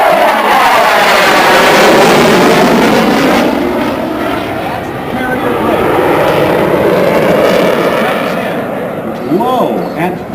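Czech-built L-39 Albatross jets pass low and fast at the 2006 Miramar air show, a loud roaring engine sweep that swells and fades over several seconds, with a commentator talking over it.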